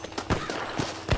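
Horse hooves clip-clopping in Red Dead Redemption, a few irregular thudding steps close by, with brief talk in the background.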